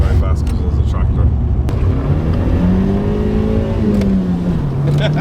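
A Nissan S-body car with an SR engine drives along an Irish country back road, its engine droning steadily and loud nearby, with the pitch rising as it accelerates.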